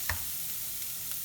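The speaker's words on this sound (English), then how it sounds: "You can hear them sizzling." Onions frying in olive oil in a pan give a steady, close sizzle with a faint crackling hiss throughout and a light scrape of stirring near the start.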